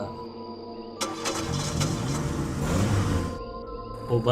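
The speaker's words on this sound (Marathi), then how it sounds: "धोबड रस्त्यावरून ट्रक सुसाट निघाला" A truck engine turns over and catches, then runs with a rough, building rumble as if pulling away, followed by a brief lull and another low burst.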